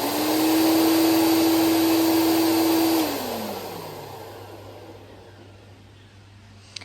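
A Riccar 8955 vacuum cleaner runs close by with a loud, steady whine and broadband rush, then the motor pitch slides down as it spins down, leaving a fainter hum and low rumble.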